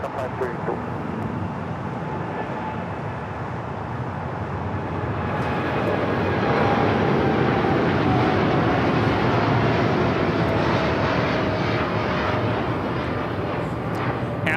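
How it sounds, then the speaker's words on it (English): An Atlas Air Boeing 747-8 freighter takes off at Los Angeles International Airport, its jet roar swelling into a loud, broad, sustained rumble that holds steady under faint background noise. "Atlas Air 563 taking off to Zaragoza on the 747-8 freighter."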